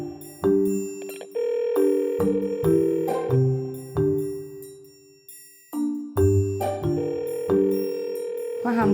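Phone tones from a call being placed, with a series of steady electronic beeps and tones sounding loud and close, broken by short gaps.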